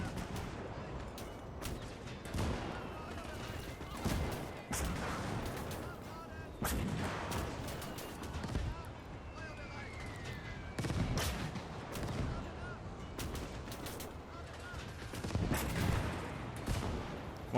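A Gates of Hell battle in which Flak 88 guns fire on IS-2 tanks: repeated heavy artillery booms and scattered gunfire crack through a busy combat din, with some faint voices mixed in.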